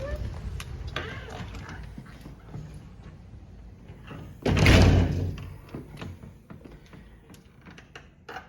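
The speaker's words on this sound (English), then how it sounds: "Screen door." A screen door at a move-in house, recently patched, swings and bangs shut in one loud thud about midway through, amid quiet room noise and a few faint creaks.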